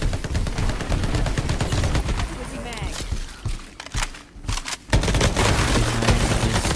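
Shotgun blasts in the PC shooter Shatterline during a boss fight, dense repeated gunfire that is loud and close, with a brief lull midway and a person talking over the shooting.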